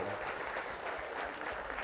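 Brief burst of audience applause at a live stage talk event, dense clapping at moderate level without clear talk over it.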